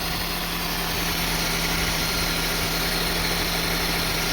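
A Honda CR-V engine idles with a constant, smooth hum and faint vibration, close up and steady, with no voices.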